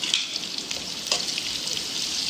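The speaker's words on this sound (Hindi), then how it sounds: "ये थोड़े नरम पड़ जाए इतना हमें इसको फ्राई करना है।" Chopped onions fry in oil in a pan for a potato curry, a steady, moderately quiet crackling sizzle with small pops throughout.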